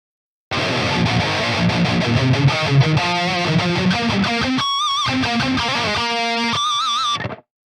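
An electric guitar with no distortion, only a 12 dB EQ boost, chugs rapid, palm-muted low notes in a tight rhythm, then rings out sustained, wavering higher notes before stopping.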